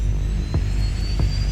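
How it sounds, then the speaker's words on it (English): A rescue helicopter comes in overhead above a steep gully, a steady, loud engine drone with a thin high whine and two dull, throbbing rotor thumps about half a second apart. "The helicopter will be overhead in a couple of minutes."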